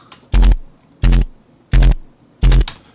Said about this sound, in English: just got a little bit of a machine gun bass here